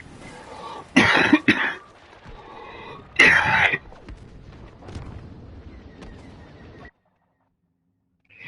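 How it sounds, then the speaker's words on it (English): A man coughs and clears his throat from smoke in a few sharp, close bursts, followed by quieter rumbling game sounds before the track falls silent. "That's why I'm coughing sometimes."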